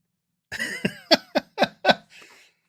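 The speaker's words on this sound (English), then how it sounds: "Well, I got a cough here." A short fit of about six sharp coughs in quick succession, close by, ending in a softer breathy exhale.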